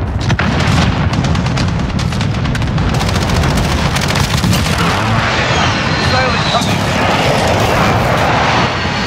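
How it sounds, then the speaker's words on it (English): Aircraft roar during a precision airstrike in Call of Duty Modern Warfare ground war at Verdansk International Airport, loud and sustained over heavy gunfire and explosions, with radio voices talking over the battle. "Enemy precision airstrike inbound."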